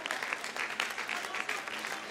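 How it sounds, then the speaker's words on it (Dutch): An audience claps in sustained applause, a dense steady patter of many hands at moderate volume with no break. "Het applaus is voor die."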